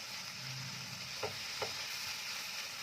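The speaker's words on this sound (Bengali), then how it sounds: "দিয়ে এটাকে একটুখানি এইভাবে একদম ভাজা ভাজা করে নেবো।" Tomato masala with Kashmiri chilli fries in a pan for Nepali jhol chicken momo, a faint, steady sizzle with two soft stirring scrapes.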